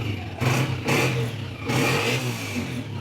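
A 125cc motorcycle engine, one of several models including a Honda 125, Yamaha YBR125 and Honda CB125F, is started and revved in bursts, loud and close, with no one speaking.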